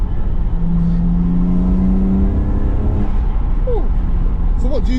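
Turbocharged BMW 335i convertible accelerating under boost, a loud droning engine note rising in pitch inside the cabin, with people talking over it and a brief whistle-like turbo sound near the end.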